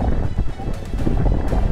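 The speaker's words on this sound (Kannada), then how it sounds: "ಒಂದೊಂದ್ಸಲ ಗಾಳಿ ಒಂದೊಂದು ಬೀಸುತ್ತೆ, ಒಂದೊಂದ್ಸಲ ಕಡಿಮೆ ಇದೆ." Wind gusts steadily near a waterfall popular with tourists, a loud, close, rushing buffet on the microphone with no gaps and the falling water mixed in underneath.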